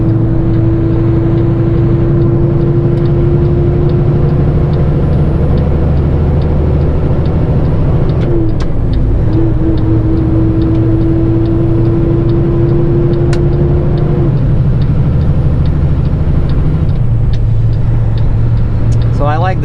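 A truck engine drones steadily in a lower gear while climbing a 6% grade on a Montana highway between Dillon and Boulder. The loud, even hum dips briefly partway through, then settles back to a sustained pull.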